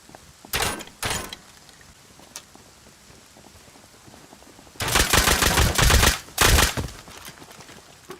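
Revolver and nail gun fire in the survival game Rust: two short bursts of shots early on, then a longer volley followed by another burst, sharp and loud over a quiet background.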